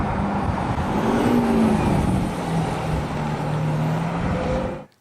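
A 2016 Audi SQ5 engine fitted with a Kufatec Sound Booster Pro produces a steady, deep rumbling drone with slight shifts in pitch, then cuts off at the end.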